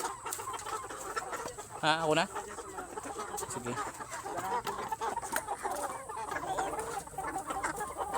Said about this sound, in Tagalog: yan ang mga manok. Ito mga Rhode Island to guys.